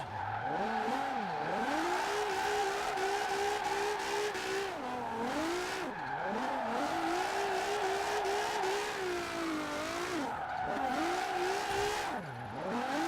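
A Nissan 350z drifts in Forza Horizon 4, its engine revving and swooping up and down through repeated slides with tire squeal, loud and continuous, with no talking.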